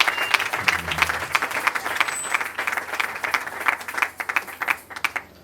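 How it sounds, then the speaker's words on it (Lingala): A church congregation claps for the Lord at a worship service, a crisp, fairly close round of applause with distinct individual claps thinning toward the end. "Nous acclamons très fort pour le Seigneur."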